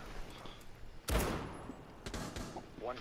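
A player in a video game firing at dead bodies: one sharp, fairly loud gunshot with a short decay amid faint background noise, then softer mechanical clicks.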